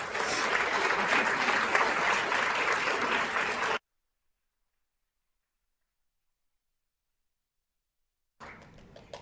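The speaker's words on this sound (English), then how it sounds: "give all of our honorees this evening a huge round of applause" Audience at a governing board meeting applauding honorees, a dense round of clapping for nearly four seconds before cutting to silence, then faint clapping returning briefly at the end.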